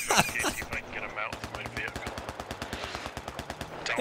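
Rapid automatic gunfire in the military shooter video game SquadOps rattles in a long close burst of evenly spaced shots, with a brief voice at the start.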